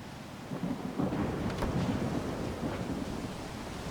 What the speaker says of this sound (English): Looks like there's a storm out.